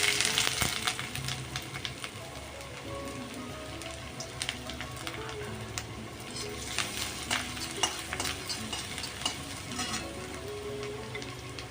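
Chopped ginger, garlic, chili and onion hit a spoonful of white oil over high flame, giving a steady close sizzle with scattered crackles and scraping stirs throughout, no voices.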